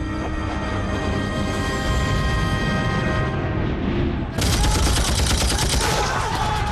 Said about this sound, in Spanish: Cuando desembarcan las fuerzas aliadas, llegan con disparos de ametralladoras